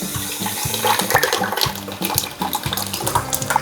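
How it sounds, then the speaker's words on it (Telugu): Water pouring steadily from a container into a large cooking pot being filled for five kilograms of old Kurnool rice, a continuous splashing gush close by with no voices. "ఐదు కిలోల బియ్యం పోసిన ఈ డబ్బాతోటి 8 కేజీల వాటర్ పోసిన"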